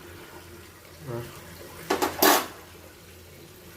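Tea water coming to a boil in a pot on a gas stove, heard as a soft bubble early on and then a brief burst of louder bubbling and churning near the middle, with a single short spoken word.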